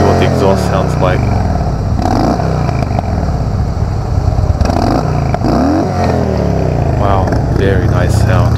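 A 2016 Harley-Davidson Softail Deluxe motorcycle's exhaust is revved up and down several times in a loud, close, continuous engine drone, with rising swells and a voice heard over it.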